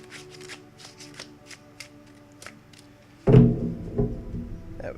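Tarot cards shuffled during a live reading, a run of soft papery riffles and taps for about three seconds, then a louder flurry of card-handling thuds and rustles close by.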